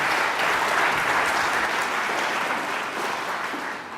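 Audience applause after a thesis presentation at a Three Minute Thesis competition, a dense, steady wash of many hands clapping that fades slightly toward the end.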